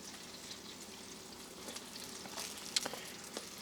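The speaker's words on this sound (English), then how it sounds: "Fry these up because these are already cut up" Plantain slices frying in oil give a steady, soft sizzle and crackle throughout, with a few sharper pops near the end and no voices.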